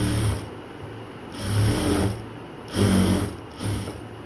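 A sewing machine stitching a dress seam runs in steady bursts, whirring on and pausing several times, close and fairly loud with no talk.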